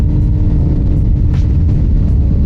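A Suzuki GSX-R750 motorcycle pulls hard at full throttle in sixth gear without shifting, a loud, close, steady low engine roar that holds for the whole stretch with no talking.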